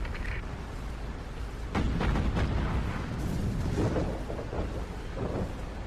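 Naval cannon fire in the World War II naval combat game Battlestations Pacific, a deep rumbling boom that swells over steady heavy battle noise and rolls on like distant thunder.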